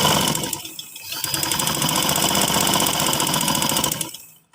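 A sewing machine stitching fabric during a basic sewing lesson runs in a loud, fast, steady mechanical chatter for about four seconds, briefly easing near the start, then winding down and stopping.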